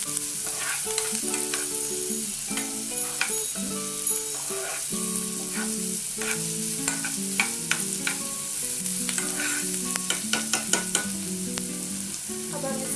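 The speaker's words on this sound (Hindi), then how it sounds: "अनियन सब ट्रांसलूसेंट होने लगे हैं, कुछ देर और फ्राई कर लेते हैं।" Onions sizzle steadily as they fry in a pan, with a spoon or spatula repeatedly scraping and stirring through them, close and continuous throughout.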